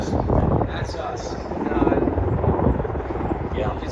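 Air Force rescue helicopter at the Jones Beach airshow, its rotor thudding loudly and steadily overhead throughout, with people talking nearby over the engine noise.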